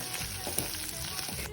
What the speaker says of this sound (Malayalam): പിന്നെ അത് വറുത്തെടുത്തു കേട്ടോ.